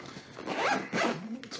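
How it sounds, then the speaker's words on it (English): Zipper on a GoPro Hero 9 Black camera case with a string tab and rubber end, pulled in two quick close rasping strokes, loud and dry with a short pause between them. "Nice zipper on it."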